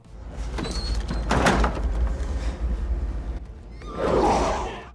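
A basement door in a vampire horror film scene creaks and slides open, with a heavy scrape at the start, a rumbling middle and another loud door movement near the end.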